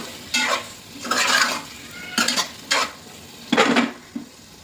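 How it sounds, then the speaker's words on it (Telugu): Fried paneer and eggs tossed in masala in a pan, with several short bursts of spatula scraping and stirring over a soft sizzle, close by and without speech. "మనం ఫ్రై చేసుకున్న పన్నీరు ఎగ్ ఇందులో వేసి ఫ్రై చేసుకోవాలండి మసాలాలో"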